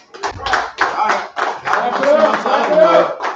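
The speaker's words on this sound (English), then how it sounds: "Clap it up" An audience claps at a Feast of the Dedication gathering in rhythmic bursts, and a voice speaks over it.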